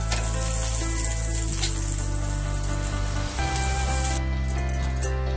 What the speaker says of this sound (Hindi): अब हम दूसरा बैच को भी फ्राई करेंगे।